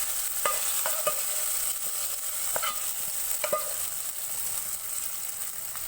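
A tadka of cumin, curry leaves and green chilies is stirred into simmering kadhi, giving a soft steady sizzle broken by a few sharp clicks and scrapes of a spoon against the pot.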